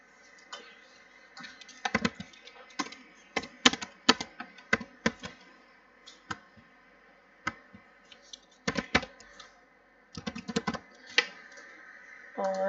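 Typing on a computer keyboard while writing Android app code, with irregular bursts of crisp key clicks and pauses between them, close and fairly quiet, with no voice over it.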